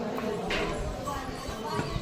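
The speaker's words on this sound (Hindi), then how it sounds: "ये लोग घोड़ा बैठ के आ रहे हैं।" Horses carry riders along the pilgrimage route to Shree Mata Vaishno Devi at Katra, hooves clip-clopping in a quiet, irregular walking rhythm under nearby voices talking.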